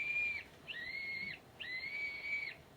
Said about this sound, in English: Blow the whistle quick, Jimmy.